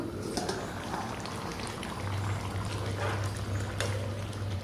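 Water being poured into a pot of cooking pumpkin curry on a gas stove, a steady rushing splash and sizzle that holds at an even level, with a low hum under it.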